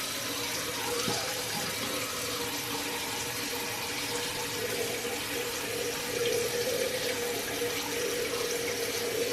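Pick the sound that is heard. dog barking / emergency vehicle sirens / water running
water running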